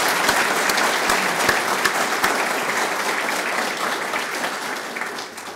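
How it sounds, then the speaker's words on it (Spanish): An indoor audience at an agricultural productivity event gives strong, steady applause that fills the whole stretch, dense and sustained, fading slightly at the end. "les pido, por favor, un fuerte aplauso por el señor doctor Sanjaya Rajaram."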